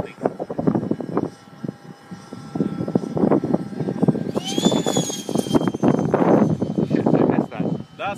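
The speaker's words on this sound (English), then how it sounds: "It's a light plane on a pretty powerful bungee." A model light plane is launched on a powerful bungee, its small motor whining and rising in pitch partway through under near-constant outdoor chatter from onlookers.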